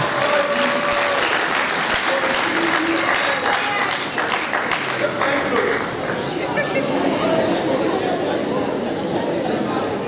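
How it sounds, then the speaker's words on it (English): Audience applause, continuous clapping from a crowd with chatter and occasional voices mixed in, holding at an even level for the full length. "Shall we clap?"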